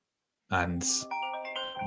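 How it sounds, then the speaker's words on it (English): A mobile phone rings with an incoming call, a bright electronic ringtone melody starting abruptly and playing close and loud on its own. "why am I getting a phone call, man?"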